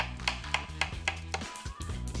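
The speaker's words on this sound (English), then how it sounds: "start the sauce by slicing mushrooms" A knife slices mushrooms on a board in quick, evenly spaced strokes, about six cuts, over a low background hum.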